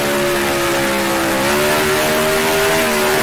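A 1966 Formula 1 car's engine at the French Grand Prix in Grand Prix Legends, a loud, continuous close revving whine whose pitch climbs gradually as the car accelerates.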